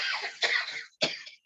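Two or three dry coughs, close by, in quick succession with a short pause before the last one.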